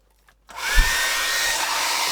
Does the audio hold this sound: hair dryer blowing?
yes